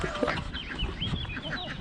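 Hens in a cage clucking and squawking in a busy overlapping chorus, close and fairly loud, with scuffling noise underneath.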